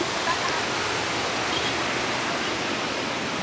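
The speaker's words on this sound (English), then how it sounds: "they got like waterfalls" A waterfall at an Atlanta venue gives a steady, dense rush of falling water that fills the scene evenly throughout, loud and continuous with no talk.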